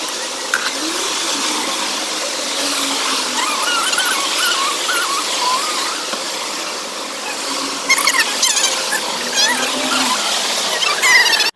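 A city bus on route 364 in Tbilisi pulls in, its brakes giving shrill, wavering squeals over a running engine, with louder squeaks and clatter near the end.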